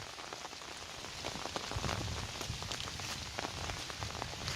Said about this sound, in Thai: แต่ฝนตกธรรมดาแบบนี้เป็นฝนตก